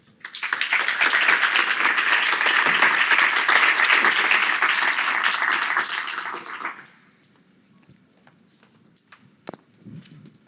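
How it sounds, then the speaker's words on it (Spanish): An audience at a legal lecture on intellectual property crimes in Mexico claps in a loud, sustained burst of applause lasting several seconds, then it fades to quiet room noise with a few faint sounds. "Un aplauso, por favor."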